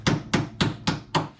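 A body hammer taps on metal, five sharp evenly spaced strikes about a quarter second apart, close and clear with short ringing decays.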